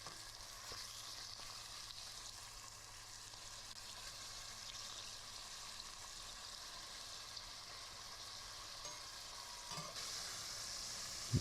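A thin steak sears in a pan over high heat, giving a constant close sizzle that holds evenly and swells slightly near the end.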